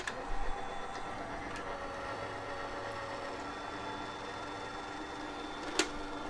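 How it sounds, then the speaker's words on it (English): An Anna Griffin Empress Mini die cut machine runs with a steady low mechanical hum, broken by a few faint ticks and one sharp click near the end, close and alone. "I'm gonna stick it through my die cut machine, which is my Empress Mini from Anna Griffin."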